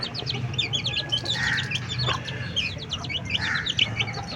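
Many high, quick chirps from young chicks overlap in a busy flurry, with a low steady hum underneath.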